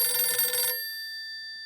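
An incoming telephone call rings briefly in a sitcom scene, a loud, bright trill that cuts off abruptly after under a second, leaving a faint lingering tone.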